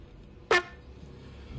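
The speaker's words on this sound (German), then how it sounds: "Kriegst du nochmal die Tröte." A toy horn gives one short, bright honk, close and loud, standing alone against a quiet background.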